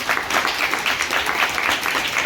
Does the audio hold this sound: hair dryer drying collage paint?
no